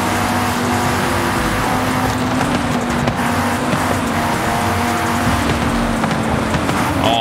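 Car engine roaring hard and steadily on the autobahn at night, loud and close, with constant road and wind rush and no talk.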